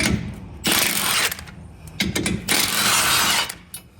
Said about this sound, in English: using our 16mm socket, I'm going to go ahead and remove these 2 bolts, securing the mounting plate for the skid plate